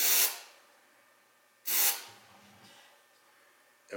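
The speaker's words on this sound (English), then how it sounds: "we're going to spray this on the inside" Short hissing bursts of an aerosol adhesive spray can applied inside an oar handle, two long blasts separated by quiet pauses and a third starting at the end, close and clear.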